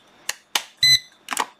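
GE Concord 4 alarm panel giving a short electronic beep as a sensor is learned, a single sustained tone among a few sharp clicks and taps nearby.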